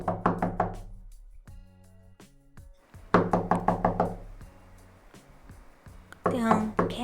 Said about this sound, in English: A knock came at the door.